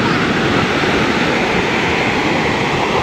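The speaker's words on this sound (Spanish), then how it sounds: "las olas están como muy rebeldes" Rough ocean waves breaking on a Sayulita surf beach, a loud, dense, continuous roar of surf with no distinct gaps or voices.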